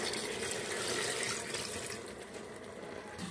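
Water is poured steadily into a pot of Punjabi mutton korma, a continuous splashing, gurgling pour that fills the whole moment, fairly quiet and close, with no voices.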